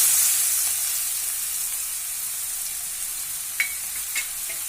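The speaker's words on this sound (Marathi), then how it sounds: "आता त्याच्यावरती आपण कांदा घालूया" Onion goes into a pan of crushed garlic frying in oil for a Konkani radish greens dish, giving a steady close sizzle with a louder hiss at first and a few light scrapes and clicks of stirring.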